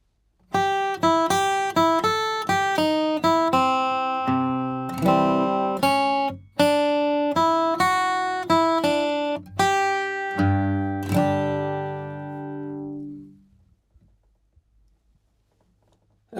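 Bluegrass flatpicking lick in C on acoustic guitar, played as a steady run of clear picked notes for about thirteen seconds, ending on a ringing chord that fades out.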